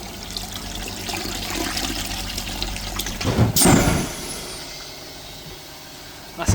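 Water rushes and gurgles as it is flushed through the diesel particulate filter of a Peugeot Boxer, a steady trickling flow that surges into a loud splashing burst before tapering off.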